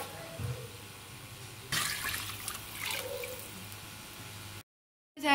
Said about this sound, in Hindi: तो इसको अब इसमें पानी डाल दिया